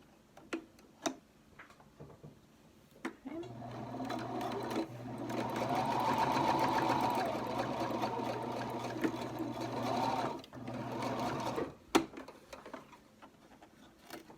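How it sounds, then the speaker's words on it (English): A sewing machine stitching through two layers of face mask fabric, a steady whirring run of several seconds framed by a few clicks and taps before and after. "So you're just sewing through the 2 layers of the fabric"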